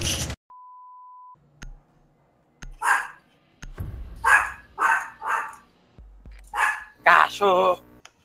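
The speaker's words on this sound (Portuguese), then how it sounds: "Cachorro!" Dog barking in a Rainbow Six Siege match, a run of several sharp close barks with electronic beeps and players talking around them.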